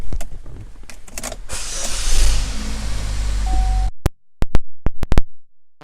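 A power moonroof motor on a 2015 GMC Terrain Denali runs as a steady electric whirr for several seconds, close and clear, then stops, followed by a few sharp clicks.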